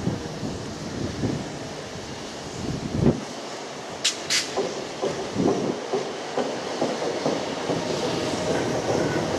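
The steam locomotive Duchess of Sutherland departs with heavy, irregular chuffs building in rhythm, two sharp whistle blasts midway, and the rumble of carriages nearby.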